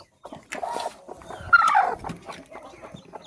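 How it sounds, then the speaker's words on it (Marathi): Brooding hens in a village poultry setup cluck softly and close by while hatching chicks, with a louder squawking call in the middle among scattered rustles and faint peeps. "अशा पद्धतीने कोंबड्या बसल्यात सगळ्या पिल्लं काढायला कोंबड्यांनी सुरुवात केली आहे"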